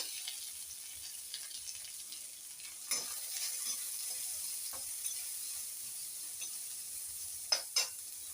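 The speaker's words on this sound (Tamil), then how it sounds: "இப்போ நம்ம நறுக்கி வச்சுக்கிறத வதக்கிக்கலாம்" Chopped vegetables for beetroot chutney sizzle steadily in a hot pan with occasional scraping stirs and a couple of sharper clinks near the end.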